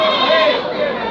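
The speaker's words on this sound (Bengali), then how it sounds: "দেখেন উন্নত জাতের ছাগল এই হাটে ওঠে।" Goats bleat in a busy wholesale goat market in Bangladesh, their cries mixed into a dense, loud crowd of overlapping voices and trading chatter throughout.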